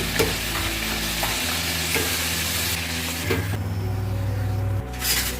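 Potato fries sizzling in hot oil for crispy French fries, a steady frying hiss with occasional stirring clatters, fairly close and alone without talk.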